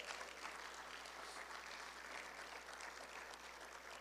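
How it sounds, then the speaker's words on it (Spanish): A church congregation applauds in a steady wash of clapping that holds evenly throughout and sounds fairly distant and faint. "denle un aplauso al Señor"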